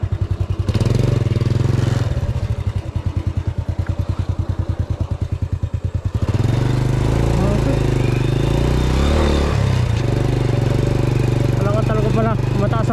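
Motorcycle on a rough, broken road in Bulacan, Philippines, its engine chugging in rapid pulses, then a louder rev and rumble as it moves, with people talking nearby.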